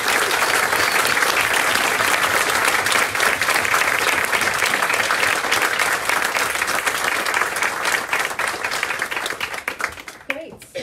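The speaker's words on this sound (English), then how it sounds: "Could we just please give this incredible person a round of applause?" Steady, full room applause at a fireside chat with Dame Stephanie Shirley, dense clapping holding loud for about ten seconds before thinning out at the end.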